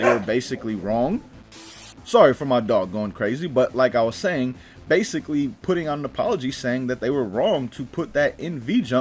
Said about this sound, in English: Sorry for my dog going crazy